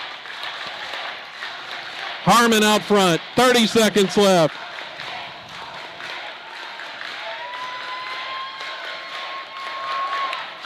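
A girls high school basketball crowd at a Silo away game in Latta, cheering and roaring in the closing seconds, carrying loud and steady under continuous play-by-play commentary, with bursts of louder commentary on top.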